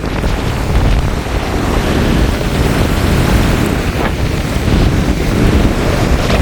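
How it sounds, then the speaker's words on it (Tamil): Loud, rough rushing of cyclone wind and heavy sea surf at Point Pedro, continuous and close, with large storm waves churning and buffeting the microphone throughout. "இந்த அலையனுடைய ஆக்ரோஷத்தை வந்து இவ்வளோ பெரிய அலையண்டு பாருங்க"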